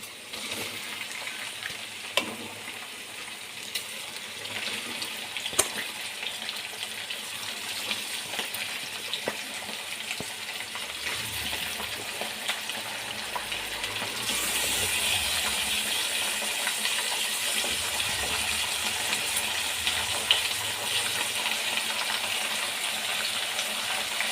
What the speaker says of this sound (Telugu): ముందుగా వాష్ చేసి పెట్టుకున్న కందనకాయలు మొత్తాన్ని ఆయిల్లో వేసుకుంటున్నాను